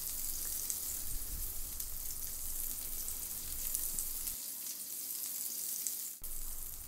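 A rump steak fries in a pan with a steady, close sizzle and crackle, continuous and moderately quiet with no talking.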